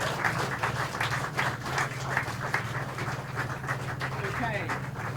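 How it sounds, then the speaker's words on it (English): Audience at an awards presentation event in Thames claps in an uneven, rhythmic patter at moderate volume, with talking and crowd murmur running underneath throughout. "Can we give them a round of applause"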